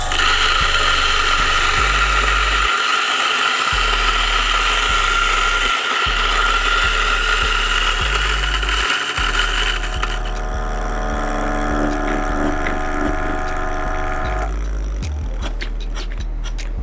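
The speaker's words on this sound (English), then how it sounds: "Now we're going to grind it in 3," A DF64E electric coffee grinder runs steadily through its grind, giving a loud, continuous motor whine with grinding texture that shifts partway through, then slows and winds down near the end. No voices are heard.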